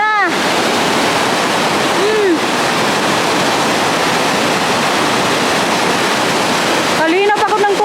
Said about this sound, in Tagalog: Kalakas ko ng agos ng tubig dito.